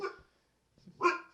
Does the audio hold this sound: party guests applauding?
no